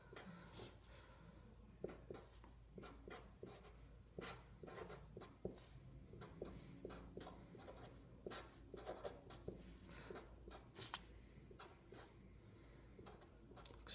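A pen writes out a math series by hand on paper, giving quiet, close scratching strokes with frequent short taps and pauses in an irregular rhythm, steady throughout with no talking.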